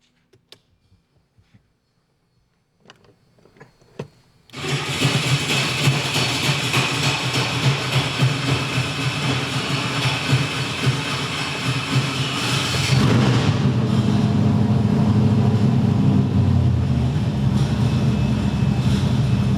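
A Ford engine on a dyno cranks and fires into a loud, steady idle after a few seconds of near silence, then rises in volume and fullness partway through, running strong to the end.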